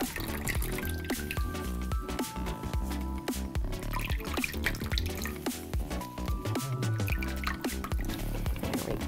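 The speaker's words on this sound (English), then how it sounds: "we're going to push and just get all that last bit of juice out of the tea" Liquid dripping and trickling as the last of the brewed Thai tea is squeezed out, a steady patter of drops under louder background music.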